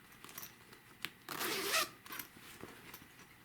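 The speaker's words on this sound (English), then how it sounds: "zipper." A zipper on a zippered fabric wedge bag with handles on top is pulled in one quick, close run, framed by faint handling rustles and small clicks in a quiet room.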